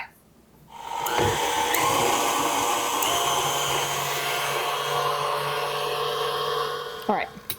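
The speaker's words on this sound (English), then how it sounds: "blend it up until it's smooth" Blender whirring through berry cake batter, a loud steady motor drone that starts abruptly, runs for about six seconds and stops with a few clunks.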